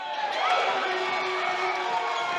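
After a three-point shot in a men's college basketball game against Angelina, an arena crowd roars in a loud, sustained wash of cheering that holds at full volume, with no talking over it.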